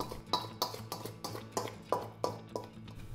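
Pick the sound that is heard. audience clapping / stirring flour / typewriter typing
stirring flour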